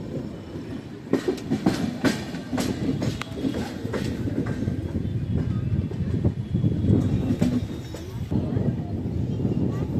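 A long-distance passenger express in India, Gondia–Barauni, runs at speed with rhythmic clickety-clack of wheels over rail joints and a continuous rumbling interior, heard from inside a general-class coach.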